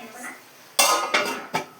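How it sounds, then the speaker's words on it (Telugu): A metal lid clatters onto a cooking pot in the kitchen: three quick, sharp clanks close by, following a quieter stretch of background sound. "మూత పెడదాం"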